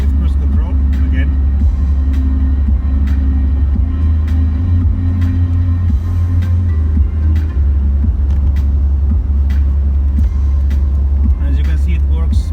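A Nissan 200SX S13 cruising steadily on cruise control, its engine and road rumble a continuous low drone from inside the cabin, with someone talking over it.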